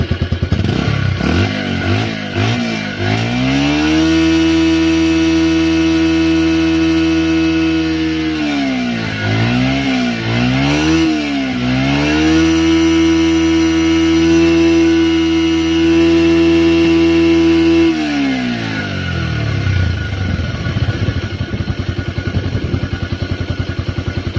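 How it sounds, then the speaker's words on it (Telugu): A Bajaj Pulsar 150 Twin Disc motorcycle exhaust idles steadily up close, revs up a few times, settles, and then drops back to a lumpy idle. "ఇప్పుడు మీరు ఈ వెహికల్ యొక్క సైలెన్సర్ సౌండ్ వినొచ్చు"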